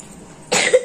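A single sharp cough bursts out after a stretch of near silence, close and fairly loud, with a brief harsh tail.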